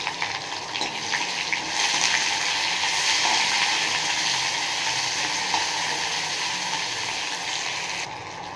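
Chopped onions hit hot oil in an iron kadai with dried red chillies and curry leaves for an okra stir-fry, giving a loud, steady sizzle and crackle close by, with no talking.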